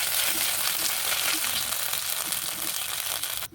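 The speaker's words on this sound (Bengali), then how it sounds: "দিয়ে ভালো করে লাল লাল করে ভেজে নেব।" Radhuni seeds and ginger paste fry in ghee and oil with a loud, dense, crackling sizzle heard up close, stopping abruptly at the end.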